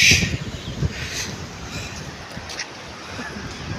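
A river current rushes past near Rishikesh among mountains in the early-morning wind, a steady close broadband wash of water that swells loudest at the start and then settles into a continuous even roar.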